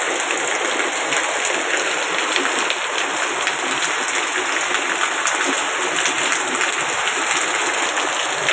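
Heavy monsoon rain in Bardhaman district, West Bengal, pours down as a loud, unbroken, dense roar of falling water, close and continuous throughout with no voices.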